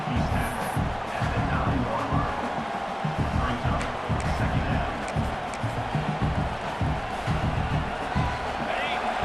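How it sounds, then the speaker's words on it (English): A stadium crowd at a Florida State vs LSU college football game roars steadily throughout, with cheering and noise swelling as the defense holds in the red zone, under a broadcast commentator's voice. "the crowd coming to life here, trying to help this defense down in the red zone"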